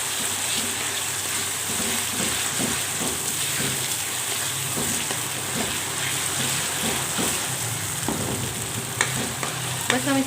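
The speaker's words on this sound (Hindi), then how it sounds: "इनको अब हम लोगों ने इसमें फ्राई कर लेना है ऑयल में अच्छे तरीके से।" Tomatoes fry in oil in a pan for a Pakistani mash daal gosht (lentil and meat curry), a steady close sizzle broken by repeated scraping stirs of a spoon, with no talking.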